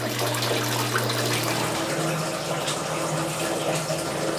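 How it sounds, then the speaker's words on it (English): Water pulses and drains through the siphon of an aquaponics grow bed in a New York City apartment, a steady close gurgling rush with a low hum underneath and no talking. "you can see the water starting to pulse in there"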